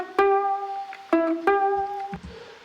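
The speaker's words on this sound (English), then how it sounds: "The ukulele comes in" Ukulele riff from a multi-track recording made in a small tiled live room, bright plucked chords struck in a repeating pattern of three or four strums, clean and close with ringing tones.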